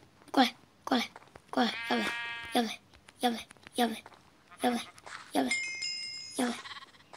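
Sheep in the Minecraft video game bleat repeatedly in short, close, fairly loud calls, with players talking over and between them.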